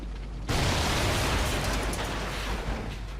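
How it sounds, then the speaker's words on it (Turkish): A loud explosion in the crime video game Vegas Gangsteri bursts in suddenly and then lingers as a dense, sustained roar of broadband noise. "Patladı."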